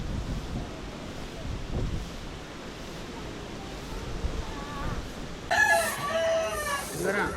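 A rooster crows near the end, fairly clear over steady wind and outdoor background noise, at a temple grounds in Sri Lanka.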